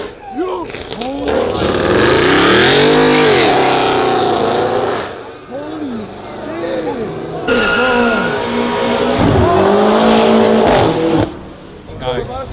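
A street racer's car spins donuts at a car meet takeover, its engine revving hard and rising and falling over and over, with tires squealing. Excited shouting from a crowd close by runs throughout.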